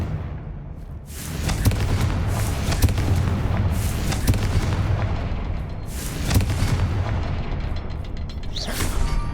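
A Confringo spell explosion in Hogwarts Legacy: a loud, continuous rumbling roar with deep booming bursts that swell and fade over several seconds, and no talk over it.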